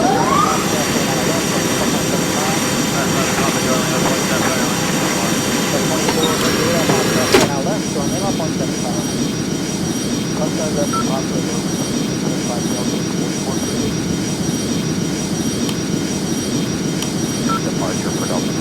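Boeing 757-200 jet engines on an Icelandair takeoff from Rome fill the cabin with a loud, steady roar that swells sharply partway through and then holds constant, with faint talk beneath.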